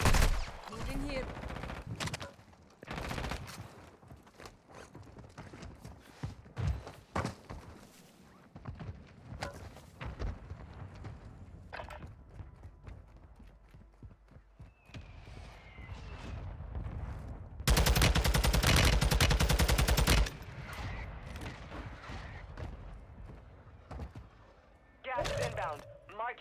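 Scattered gunfire in Call of Duty Modern Warfare II, irregular single shots and short bursts at varying distances with a long loud stretch of continuous fire, mixed with game radio voices and other battle noise.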